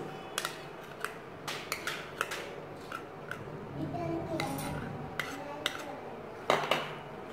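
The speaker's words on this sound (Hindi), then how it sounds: "अब इन सब चीज़ों को एक साथ मिक्स कर लीजिए दही मायनीस" Yogurt and mayonnaise chutney stirred in a bowl with a spoon, light repeated clinks and scrapes of metal on dish, faint and close, with quiet background voices.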